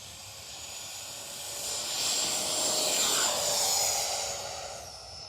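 A HobbyKing FlyCat V2 RC jet plane takes off on a hot day, its high, hissing turbine whine swelling louder as it passes close by, then easing slightly as it climbs away.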